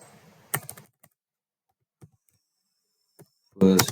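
A few separate keystrokes on a computer keyboard, typed while working in an Excel spreadsheet. They come as isolated clicks spread across mostly quiet stretches, with a denser flurry of taps at the end.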